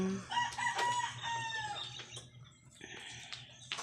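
Chickens clucking nearby in their coop with a rooster crowing, bursts of calls rising and falling over a quiet outdoor background, no voices.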